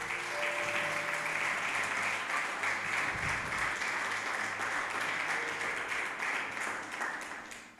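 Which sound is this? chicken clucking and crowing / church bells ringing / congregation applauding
congregation applauding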